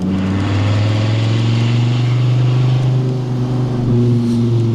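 A 1994 Dodge Viper RT10 engine pulling hard under throttle, a loud, deep, steady drone that holds and builds slightly across several seconds, close by with no talk over it.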